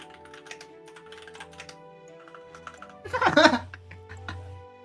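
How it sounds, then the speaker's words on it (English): Computer keyboard typing clicks steadily in the background during a Minecraft stream, followed by a louder burst of laughter and chatter near the end. "we hear your keyboard"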